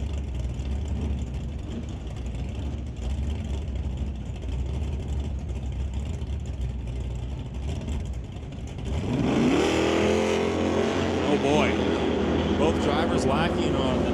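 A Plymouth with a smooth-finish concrete body and a 1969 Mustang launch at an old-time drag race, engines roaring up loud and rising in pitch after a rumbling idle, with crowd and announcer noise around them.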